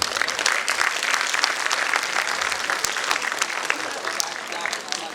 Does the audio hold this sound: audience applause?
yes